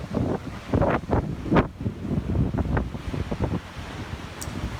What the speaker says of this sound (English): It was extremely windy with waves coming in off of the ocean.